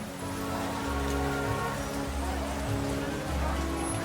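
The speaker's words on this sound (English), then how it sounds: "my footsteps falling heavily on the wet, rain-soaked pavement" In the video game World of Goo 2, steady rain patters on wet pavement at night, a continuous close hiss with low repeating thuds beneath, while a voice narrates over it.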